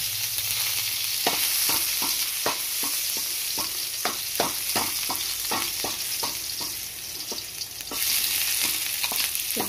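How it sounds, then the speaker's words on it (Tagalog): Garlic and onion sauté in a pan over a constant sizzle, with a spatula scraping in quick repeated strokes close by, at times in a steady rhythm and with no voices. "magigisa na tayo. Punahin natin yung bawang."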